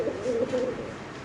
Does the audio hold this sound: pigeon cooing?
yes